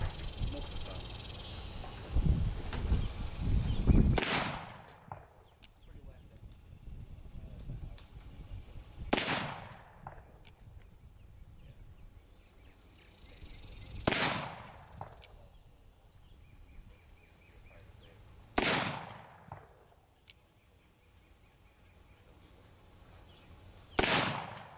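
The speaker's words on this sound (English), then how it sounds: "So we're going to finish up by shooting these little steel swingers," A Pietta Griswold & Gunnison revolver firing at small steel swingers outdoors, with four sharp, loud shots spaced several seconds apart, each followed by a fading echo.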